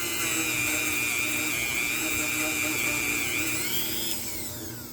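A metal pick scrapes rust from a part of a GT185 restoration, heard as a steady, loud high-pitched whining grind that carries on for several seconds and eases off slightly at the end.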